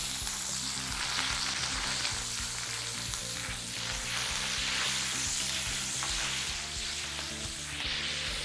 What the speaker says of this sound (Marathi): कांदा आपल्याला छानपैकी भाजून घ्यायचा आहे तेलावर